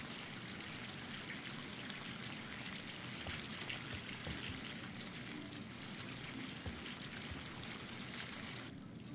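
Bathtub filling with running water in the video game Life is Strange 2, a soft, continuous trickle and splash of water pouring into the tub, faint and steady throughout.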